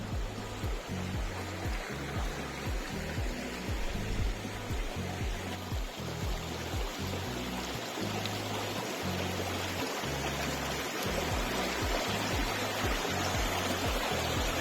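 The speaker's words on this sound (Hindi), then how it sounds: "यहाँ पर इतनी शांति है ना कि पानी की बहाव की आवाज़ भी आपको काफ़ी क्लियरली सुनाई देगी।" Water flows steadily through a stream in Patalkot valley, a continuous close rushing and gurgling with no voices, holding an even level throughout.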